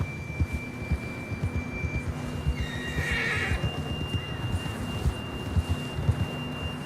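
A horse whinnies once in Red Dead Redemption 2 while its hooves thud in a steady clip-clop rhythm on the ground, fairly close and alone without talk.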